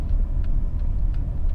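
Honda Accord 2.4 i-VTEC petrol engine heard from inside while driving, a steady low rumbling drone with road noise, fairly loud and even, no talking.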